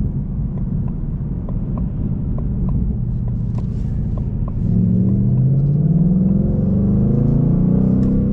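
A car engine rumbles under load while driving on an early morning road, then flares into a rising rev after a too-early downshift, steady and close with wind noise.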